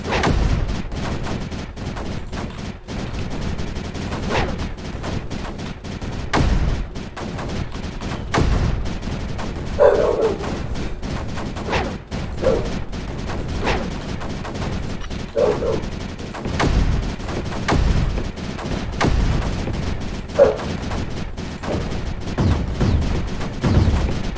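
Dense rapid gunfire and explosive bursts from the Space Crew video game as the crew shoots creeper, loud and continuous with booming hits throughout, no talk.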